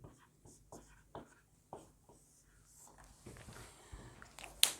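Chalk or marker writing on a classroom board during a physics lecture: a series of short, faint scratchy strokes in an irregular rhythm, fairly quiet, with one sharper tap near the end.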